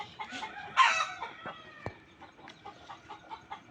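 Chickens cluck and a rooster crows briefly nearby, with soft repeated clucking continuing after, fairly quiet overall.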